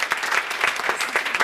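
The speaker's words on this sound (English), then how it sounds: "So please give a round of applause" Applause from an audience at a town board meeting, a steady wash of many hands clapping close by, fairly loud throughout and with no voices over it.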